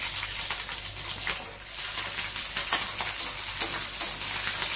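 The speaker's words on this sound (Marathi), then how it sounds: "पण बारीक गॅसवर मिरच्या परतून घेऊ" Green chillies fry in hot oil over a low flame, giving a steady, close, dense sizzle with crackling spits throughout and no voices.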